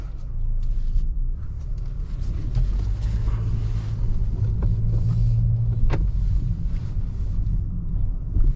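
Steady low rumble of road and engine noise from inside a 2023 Nissan Sentra SR Midnight Edition driving on the road, with faint wind noise and small knocks, no talking.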